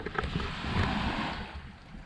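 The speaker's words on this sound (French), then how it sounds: "Vue du fourgon, avec le bruit des vagues." Ocean waves wash in the distance as heard from inside a parked van, a soft broad rushing swell rising and easing, with faint wind noise.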